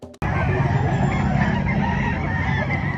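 Chickens and roosters at a cheap fowl market in Lipa make a dense, loud din of overlapping clucks and calls after a brief opening click, continuous across the moment.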